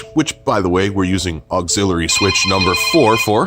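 A telephone rings with a steady electronic tone behind someone talking at close range about a 2019 Ford Super Duty F-250's emergency lighting switches.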